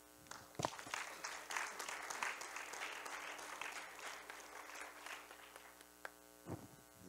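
A church congregation applauds the children, faint sustained clapping over a steady electrical hum in a large room, with a couple of louder knocks near the start and end.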